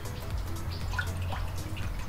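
Water runs steadily through a homemade plastic-bottle Heron's fountain, a continuous trickling and dripping flow with a low rumble underneath, close and constant, with no talking.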